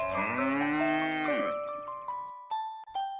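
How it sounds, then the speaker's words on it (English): Cows low loudly and close by, one long drawn-out moo that slides down in pitch and fades, followed by a few faint ringing bell-like tinkles and no talk. "look at those cows"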